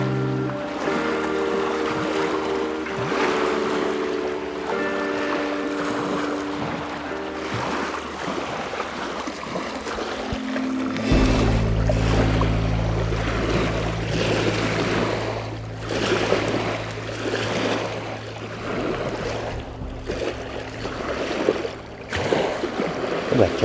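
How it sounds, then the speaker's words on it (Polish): Small waves splash and break against stones set along the shore of Loch Katrine in Stirlingshire, a continuous close lapping and washing with irregular bursts of spray. "Zobaczcie, jak ta woda się rozbija."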